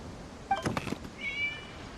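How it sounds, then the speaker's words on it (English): A single cat meow rises briefly in a video game, Genshin Impact, followed by a second softer, higher mew, fairly close against a quiet background. "It was just a cat."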